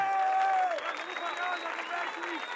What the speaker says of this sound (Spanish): Este aplauso para todos ustedes, guacho